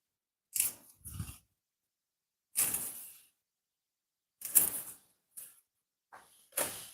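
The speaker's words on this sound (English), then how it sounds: "I'm just taking off some of the leaves here. Cut it like this." Callaloo leaves being cut and sorted, with several separate bursts of crisp snipping and leafy crunching spaced apart by quiet pauses, close and fairly clear with no talk.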